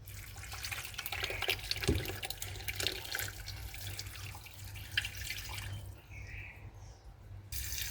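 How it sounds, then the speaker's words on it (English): Blended chili mix poured into a pot holding seared chuck roast, star anise, cinnamon and bay leaves, giving a steady close liquid pour and splash that runs for several seconds with a brief thump near the start. "Pour in the blended chili mix."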